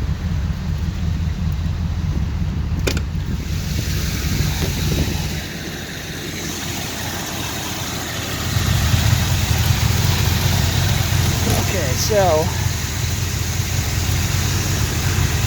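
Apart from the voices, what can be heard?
car engine running at idle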